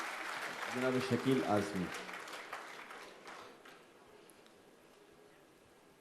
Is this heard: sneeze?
no